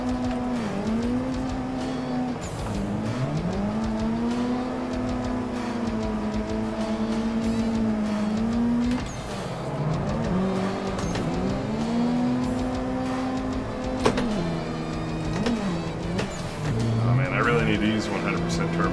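A drifting car's engine in the Assetto Corsa racing game holds a steady, loud drone with wavering pitch as it revs up and down through slides, running continuously the whole way with no break.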